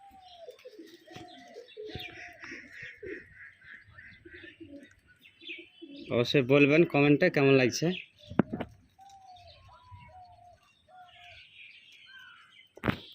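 Male pigeons coo in short rolling calls alongside thin chirps, with one louder burst in the middle, while someone talks on and off nearby.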